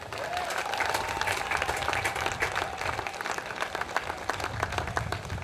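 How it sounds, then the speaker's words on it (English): Sustained applause from an audience honoring a cricket player at an awards presentation, dense steady clapping filling the whole stretch at moderate loudness. "he really needs a major round of applause"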